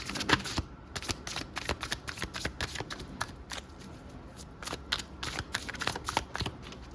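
Tarot cards are shuffled in quick riffling bursts and crisp slaps, a dense irregular patter close up and fairly quiet, with no talking.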